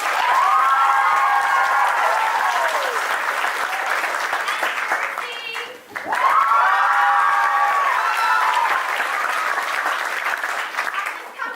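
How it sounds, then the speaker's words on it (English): Loud, sustained applause from a large audience at a youth performing-arts theatre show, with cheering and whoops, honoring the company's founder Rebecca Evans; the ovation briefly dips midway before surging back and continuing strongly. "Give her a huge round of applause"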